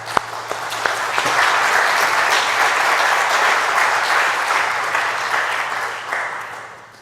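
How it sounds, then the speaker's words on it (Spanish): An audience at a lecture on the reception of Fernando Pessoa in Spain breaks into welcoming applause, a dense, steady wash of clapping that swells quickly, holds for several seconds and then tapers off. "Muchas gracias y un aplauso de bienvenida."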